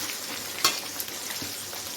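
Okra kuzhambu base sautéing with ground tomato in a pan, a steady close sizzle with a sharp spatter or scrape of stirring near the start and light crackle throughout.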